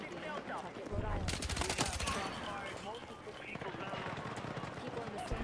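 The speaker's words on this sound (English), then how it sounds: "The moment gunshots rang out during a high school boys hockey game in Pawtucket, Rhode Island." Rapid gunshots ring out during a high school boys hockey game in Pawtucket, Rhode Island, a dense, loud volley of cracks over constant crowd commotion and scrambling.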